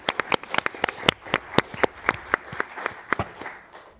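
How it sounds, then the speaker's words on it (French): Scattered applause from a small audience at a round-table discussion on access to culture for young visually impaired people: a couple dozen distinct, fairly close claps in an uneven rhythm, with no speech over them. "On vous applaudit."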